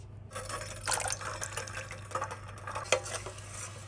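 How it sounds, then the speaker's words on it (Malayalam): Arrowroot powder mixture being stirred into water warming in a pot, with a steady liquid swirl and light scraping, a few sharper clinks of utensil on pan, close and fairly quiet over a low hum. "ഞാനിപ്പോൾ കുറച്ച് വെള്ളം ഒന്ന് ചൂടാക്കാൻ വെച്ചിട്ടുണ്ട്. നമുക്കിത് ചെറുതായിട്ട് ചൂടായി വരുന്ന സമയത്ത് മിക്സ് ചെയ്ത് വെച്ചേക്കുന്ന ആരോ റൂട്ട് പൗഡർ ഇതിലേക്കൊന്ന് ചേർത്ത് കൊടുക്കാം."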